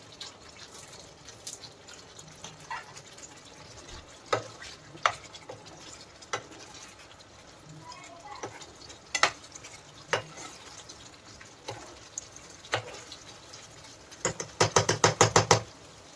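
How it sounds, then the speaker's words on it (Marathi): Paneer cubes fry in a kadhai of masala gravy with a steady low sizzle, broken by irregular clinks and scrapes of a spoon stirring, ending in a quick run of rapid metallic taps. "पनीर टाकून देऊया."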